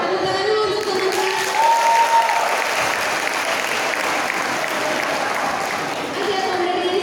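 Audience applause at a university seminar, a loud, dense and continuous round of clapping from a crowd that holds steady throughout, with a few voices and faint cheers mixed into the wash.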